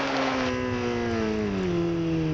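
A 2004 Kawasaki ZX-6R 600cc sport motorcycle screams at high revs near top speed, its engine whine climbing and then slowly sliding down in pitch, loud and close with a continuous wind rush.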